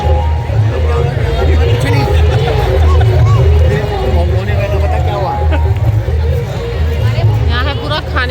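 Steady crowd babble at a busy fair with food stalls, a loud, continuous hubbub of many overlapping voices mixed with low traffic rumble, heard close throughout.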